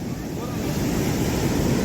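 Sea waves wash ashore at Devgad beach in a steady, loud surf roar blended with wind buffeting the microphone, with no clear talk over it.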